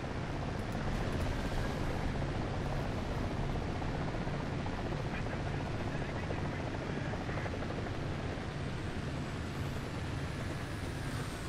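A helicopter in the War Thunder combat game drones with a steady, loud rotor and engine roar that fills the whole stretch without a break.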